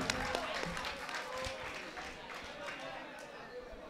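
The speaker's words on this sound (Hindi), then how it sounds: "निहाल अख्तर का तालियों से जोरदार इस्तकबाल कर दें।" Audience applause at an all-India mushaira in Malegaon, welcoming a poet to the stage: a steady wash of clapping from a crowd that stays fairly even, with voices murmuring underneath.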